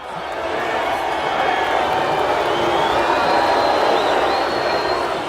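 A large arena crowd cheers and roars before a boxing match, a dense, loud, continuous wash of voices that swells slightly toward the end.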